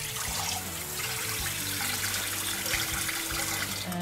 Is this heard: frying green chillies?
no